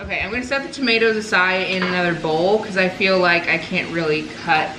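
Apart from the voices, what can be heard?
No distinct noise like a dog, phone or traffic.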